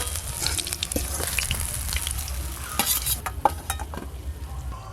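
Pieces of catla fish, from a large five-kilogram fish, fry in hot oil with a steady sizzle, broken by sharp scrapes and clinks of a spatula stirring in the pan, close by and with no talk.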